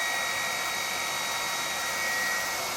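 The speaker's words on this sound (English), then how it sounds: "comparatively, I'll run a normal vacuum" A normal household vacuum cleaner running close and loud, a steady high-pitched whine with broad airy noise and constant motor tone throughout, no talk.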